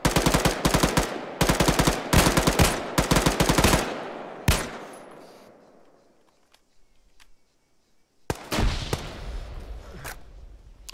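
Bursts of automatic gunfire and single shots in a PvP military shooter game, several loud rapid volleys at first, then a sharp lone shot, a fading tail, and another loud burst near the end.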